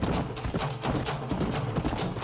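Hooves of a stolen horse gallop in Red Dead Redemption, a steady, fairly loud clip-clop rhythm over low game ambience with no talk.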